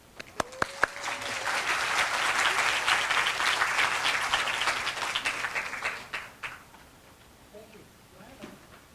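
Audience applause welcomes a plenary speaker at an international English-teaching conference in Korea, a sustained crowd clapping that swells after a few sharp claps, holds for several seconds, then thins out into scattered claps and room noise.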